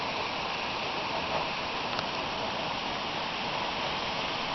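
Heavy rain falls outside in Ainsdale, a dense, even hiss of downpour that runs steadily without pause at a soft, distant level, heard alone with no talk.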